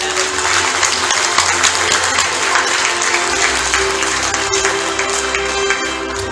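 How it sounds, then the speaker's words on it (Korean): Sustained audience applause fills a White Cane Day commemorative ceremony hall after an award presentation, a dense, steady wash of clapping from a large crowd lasting the whole stretch with no voices over it. "여러분 큰 박수 부탁드립니다"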